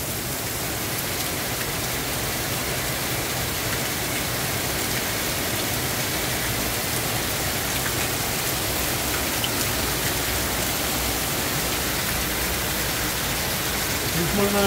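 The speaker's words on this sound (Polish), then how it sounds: "Coraz mocniej pada." Heavy rain pours down in a dense, constant hiss, drumming on surfaces nearby, during an ultracycling race, with voices talking faintly underneath.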